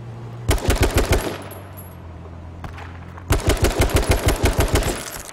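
Two rapid bursts of machine gun fire aimed at a jeep in a video game, each a quick run of about a dozen loud, close shots, separated by a short pause.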